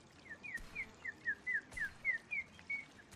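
A person whistling in imitation of a bird call: about nine short, bright chirping notes in a steady rhythm, quiet and close, with no talk.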